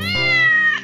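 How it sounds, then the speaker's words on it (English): Cartoonish cat meow in a children's nursery song, one clear, loud, drawn-out meow under a second long, sung alone. "the cat says meow to the turkey"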